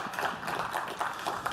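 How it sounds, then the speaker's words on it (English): Brief clapping from a conference audience at a Microsoft Build 2017 developer session, a short modest patter of hands in a large room. "Little bit of clap for that one."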